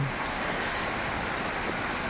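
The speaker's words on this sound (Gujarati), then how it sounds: "હવે વરસાદ રોકી દો" Dense, steady downpour of heavy rain drumming on surfaces over a cotton field, close and unbroken throughout.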